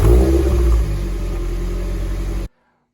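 A Mazda NC Miata with a Goodwin Racing Super Q muffler revs, its exhaust note rising briefly then settling into a steady drone before cutting off abruptly.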